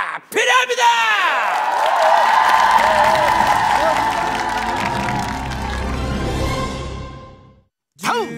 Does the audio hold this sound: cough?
no